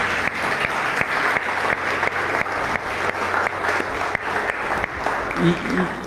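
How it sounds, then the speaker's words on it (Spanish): Congregation at a church service clapping as an offering of applause to God, a sustained loud patter of many hands filling the room throughout, with faint voices mixed in. "eleven una ofrenda de palmas, por favor, al Señor"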